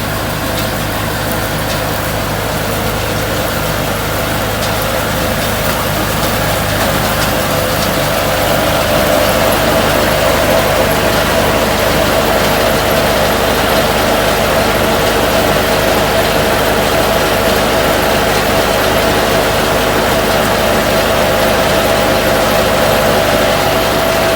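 A Chinese RXYK-9010 baler works through straw while hitched to a Dongfeng tractor, giving a steady, loud engine drone with a constant mechanical hum throughout, no voices.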